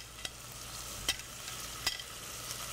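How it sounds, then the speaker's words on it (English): Beef sizzles steadily in a heated pan, a close, continuous frying hiss broken by a few faint clicks of stirring. "we're going to add our beef in. And you hear that nice sizzle?"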